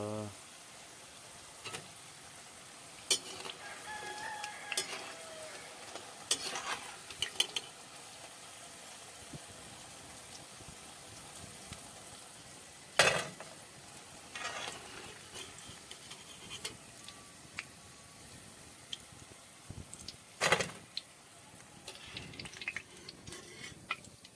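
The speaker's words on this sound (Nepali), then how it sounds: "यसलाई चाहिँ यसरी फ्राई गरेर निकाल्नुपर्ने हुन्छ।" Cauliflower pieces frying in oil for gobi manchurian, with a quiet sizzle and crackle broken by sporadic louder pops and clinks of stirring.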